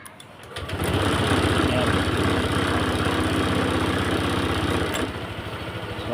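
A Honda Click 150 scooter with a wiring fault cranks and catches, then settles into a steady idle. A brief word is spoken just before the engine starts, and the idle continues evenly and close.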